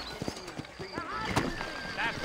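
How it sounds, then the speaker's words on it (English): Horse hooves clip-clop in Red Dead Redemption, a few distinct near clops mixed with a brief whinny, while someone speaks over them. "You ain't gonna find sturdier horses than these in all of New Albany."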